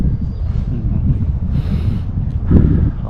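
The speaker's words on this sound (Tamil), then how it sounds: "காற்று சத்தத்தை கேட்டிங்களா? நல்லா இருக்குது காற்று சத்தம்." Wind buffeting a microphone while riding an X Max V3 scooter through cool highlands, a steady low rumbling roar throughout with a louder gust near the end.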